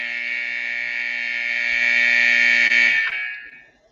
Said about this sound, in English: And the final buzzer goes to end game 2, and Jordan Binnington shuts out the Carolin